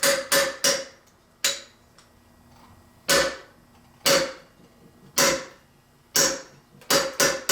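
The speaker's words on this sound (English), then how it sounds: "We got our punch here. We're going to go ahead and knock out this pin." Sharp metallic hammer blows driving a pin out with a 1/8 punch on a planetary gear assembly, about a dozen close, loud strikes in irregular clusters with brief ringing decay, no talking.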